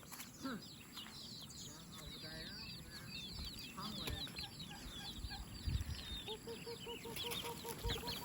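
Chickens clucking at a rural Thai home, several birds giving repeated short clucks and soft calls nearby, with a background hum and occasional voices in the clip.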